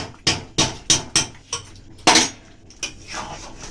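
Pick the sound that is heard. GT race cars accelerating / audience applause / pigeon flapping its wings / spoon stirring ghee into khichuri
spoon stirring ghee into khichuri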